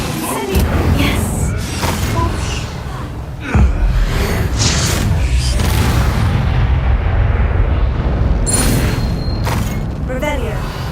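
A fire spell cast during Hogwarts Legacy gameplay on hard mode brings repeated loud booming blasts and crackling bursts through the clip, with an excited player voice shouting over the game sound.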